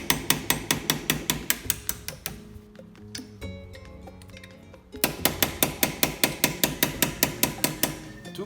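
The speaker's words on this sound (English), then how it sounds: "tap the pin out" A small screwdriver tapping the brake caliper pin out on a 2013 McLaren MP4-12C during a brake pad change: sharp, evenly spaced metallic taps, close and loud, pausing briefly before another steady run of strikes.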